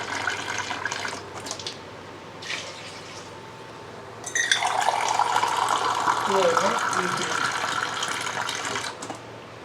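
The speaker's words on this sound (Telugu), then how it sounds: "దానికి 3 గ్లాసెస్ వాటర్ పోస్తున్నాను" Three glasses of water pour into a cooking pot, with a brief splash early and then a sustained, bright stream of filling liquid. The sound is moderately close and quiet.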